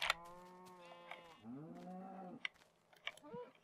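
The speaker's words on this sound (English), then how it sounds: "After having been interrupted by a cow" A cow in the Minecraft video game moos in several drawn-out, moderately loud calls, the lowing rising and falling, with brief clicks and game noises in between.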